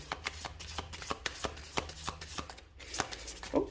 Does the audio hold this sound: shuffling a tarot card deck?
yes